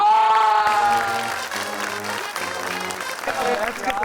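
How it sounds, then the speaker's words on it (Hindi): Applause from a studio audience at a Pakistani comedy quiz show, ringing out at a draw alongside loud music and a host's voice, then thinning. "तालियां।"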